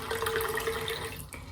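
Cooler water is poured into a salt mixture, a soft steady splashing trickle of liquid running into a container, close and quiet, trailing off near the end; no talking.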